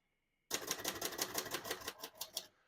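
Rapid keystrokes clack on a 1959 Royal Futura 600 portable typewriter, a dense, close burst of sharp mechanical strikes lasting about two seconds before stopping.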